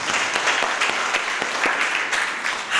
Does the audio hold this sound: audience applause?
yes